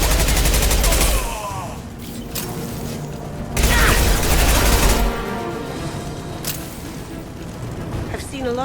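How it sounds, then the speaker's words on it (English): Sustained bursts of automatic gunfire from Blue Suns mercenaries and Vorcha in the Mass Effect 2 video game, with loud volleys around the opening second and between roughly three and a half and five seconds, and steady combat noise in between. "Blue Suns and Vorcha shooting anything that moves."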